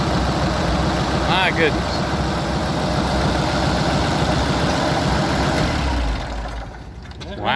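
An antique tractor engine idles steadily nearby at a show in the Smoky Mountains, a dense low rumbling chug that continues for several seconds and then drops off near the end, while a person briefly exclaims over it.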